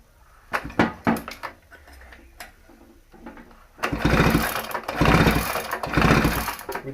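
An MT9999 chainsaw's pull-starter is yanked with the spark plug out to check for spark. Scattered sharp clicks and knocks come first, then three long rasping cranking bursts follow in quick succession, close and fairly loud.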